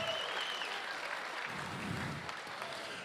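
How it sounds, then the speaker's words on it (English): A crowd applauds steadily and loudly for the novice wool handlers at the Golden Shears shearing competition, a dense continuous wash of clapping with a few whistles cutting through. "Get ready to stamp your feet, whistle and clap your hands."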